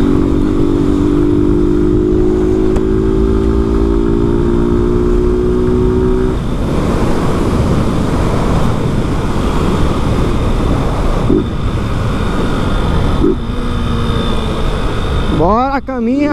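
Honda Fan 160 motorcycle with a jet cam, open original exhaust and no air filter, ridden at full throttle: an engine drone fades into a steady rush of wind buffeting, with a voice speaking over it.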